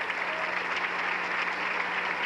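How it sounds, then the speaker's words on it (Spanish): Church congregation clapping during a sermon, a steady, moderately loud wash of many hands applauding throughout with a faint low hum beneath and no speech. "Un aplauso para el Señor."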